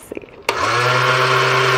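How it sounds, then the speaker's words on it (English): A slow kitchen blender starts up after a few button clicks, jumping into a loud, steady motor whir that holds its pitch and drowns everything else. "Just pressing all the buttons to get it going. Yep, starting to blend together."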